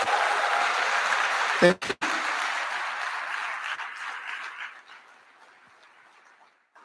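An anniversary celebration crowd bursts into loud, sustained clapping that drops out for a moment, resumes, and gradually fades to quiet, with a brief spoken thanks near the start.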